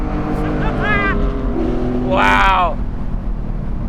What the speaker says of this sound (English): I have never heard a Porsche sound like this,